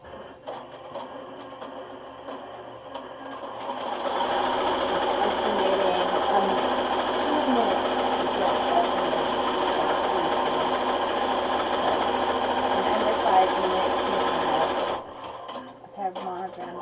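A Melco embroidery machine traces and stitches on a hat, its rapid mechanical needle chatter running steadily for about eleven seconds, close and loud, with softer machine noise before and after.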